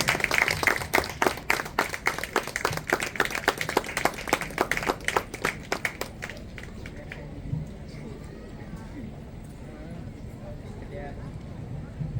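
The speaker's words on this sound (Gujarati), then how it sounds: "જોરદાર તાળી પાડો" Guests at a wedding clap loudly and in fairly even rhythm for about six seconds, then the clapping stops and a low murmur of talk and room noise carries on.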